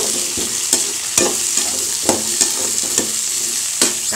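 Bottle gourd sautéing in a pan while being stirred for a dried-fish kuzhambu, with a steady sizzle under close, rhythmic scraping strokes of a spoon about every half second, loud and clear with no voices.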